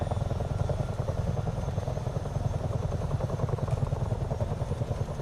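Chinook helicopter flying in Microsoft Flight Simulator 2024, heard as a dense rhythmic rotor thump with engine drone, steady and fairly quiet throughout, no talking.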